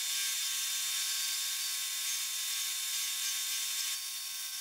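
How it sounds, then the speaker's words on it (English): A bandsaw cuts steadily through a roughly two-inch-thick block of wood, shaping an elephant design. It runs as a loud, continuous whine with a faint steady hum underneath, and it is heard on its own. "I used my bandsaw to cut out the design."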